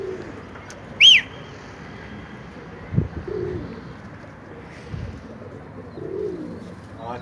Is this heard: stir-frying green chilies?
no